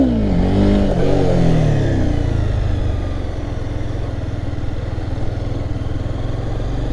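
A Honda CBR300 motorcycle engine revs high, its whine rising then settling into a steady, loud drone that carries on without any talking.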